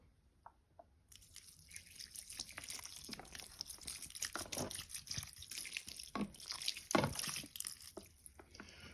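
Water pours and trickles steadily into the soil of a potted Swiss cheese plant, with dripping and gurgling that builds and continues for several seconds after a few initial drops.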